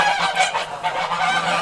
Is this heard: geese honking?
yes